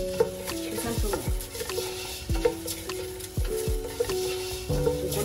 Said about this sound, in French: Là, je vais continuer à mélanger pour avoir quelque chose de translucide, un peu comme un rizigo